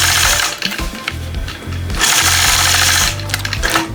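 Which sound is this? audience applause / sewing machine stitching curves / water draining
sewing machine stitching curves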